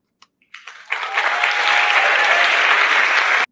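A talk audience breaks into applause: a few isolated claps at first, then loud, dense clapping swells and holds steady before cutting off.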